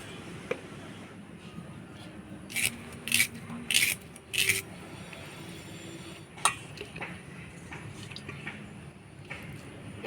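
Knife cutting onions, tomatoes and potatoes for a mutton curry in a home kitchen, heard as four quick, sharp chopping hits in a short burst near the middle, then one more single knock, over a low kitchen background.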